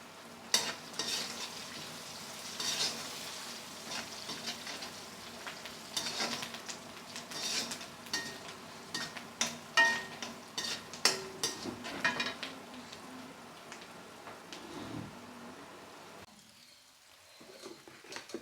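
Chili frying in a pan for a Kerala fish pickle, an uneven sizzle and crackle with scattered pops and stirring scrapes, steady and close, fading near the end.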